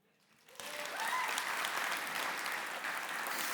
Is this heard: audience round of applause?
yes